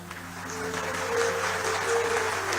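An audience claps at a poetry recital, with steady moderate applause over a sustained low musical drone.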